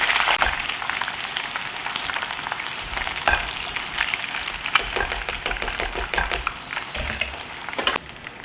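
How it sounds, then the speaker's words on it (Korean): Battered fish fillet pieces deep-fry in hot oil, giving a constant close sizzle with crackling pops and occasional stirring throughout. "이렇게 해서 생선살을 튀겼는데요"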